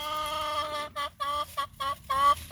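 Rooster clucking to a young laying hen in a nesting box, a close run of short, bright, rhythmic clucks broken by brief pauses.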